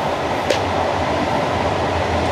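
A train runs along the Szolnok–Lökösháza railway line 120, a steady loud rumble from inside or close by, with one brief squeak.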